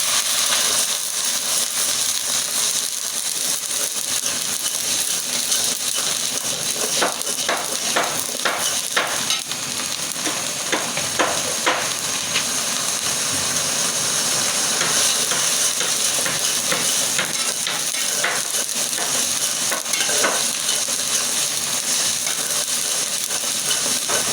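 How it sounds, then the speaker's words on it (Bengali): Ginger, garlic and onion paste fries in a pan for a khichuri dish, a steady moderate sizzle with scattered stirring scrapes and clicks throughout, no voices. "এখন আমি আদা রসুন পেঁয়াজ বাটা একসাথে দিয়ে দিলাম"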